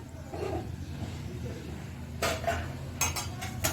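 A metal pot set down on a lit gas stove gives a few clanks and clinks near the end, over a steady burner hiss, with no talking.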